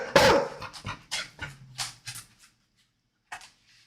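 A dog close by lets out a loud sharp bark and then a run of short, panting grumbles and yips after being asked to sit, trailing off into quiet with one last faint sound.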